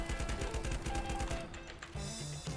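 Rapid gunfire from the Life After video game while shooting ghosts, a fast regular burst of sharp shots for about a second and a half, then a brief pause and a few scattered game sounds, moderately quiet overall.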